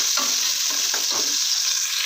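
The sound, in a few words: mustard seeds, onion and garlic frying in oil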